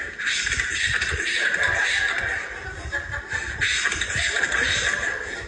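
A voice imitates the swishing of thick husky jeans while walking, a continuous rough, breathy shuffling hiss held for several seconds.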